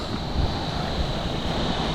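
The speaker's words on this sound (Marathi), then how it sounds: "एक इथं नदी लागतो." River water flowing beside a forest trail on the Annapurna Base Camp trek near Ghandruk, Nepal, a steady broadband rush with no breaks, close and fairly loud, mixed with some wind.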